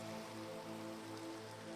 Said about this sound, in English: it's always when you don't want it to rain in Minecraft